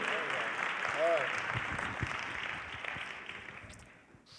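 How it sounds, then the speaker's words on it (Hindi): Audience applause in a church television show studio, a steady wash of clapping that slowly fades, with a voice briefly heard over it. "जोरदार तालियां बजाइए।"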